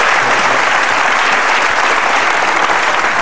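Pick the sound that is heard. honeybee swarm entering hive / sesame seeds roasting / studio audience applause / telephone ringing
studio audience applause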